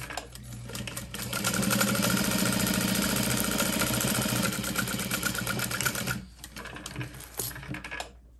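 A sewing machine stitches handbag pieces together, a fast, steady mechanical whir up close that runs for about six seconds, stops, then restarts more quietly.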